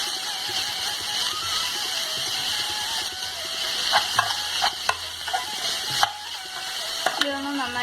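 Salted chicken sizzles as it is stirred and sautéed in a pan, with a steady fry hiss broken by sharp spatula scrapes and clicks against the pan.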